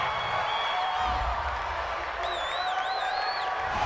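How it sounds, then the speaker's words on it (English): A football stadium crowd reacts to a roughing-the-passer penalty in an NFL game between the San Francisco 49ers and Jacksonville Jaguars, a dense, sustained roar of disapproval with scattered whistles cutting through. "this crowd does not like that call"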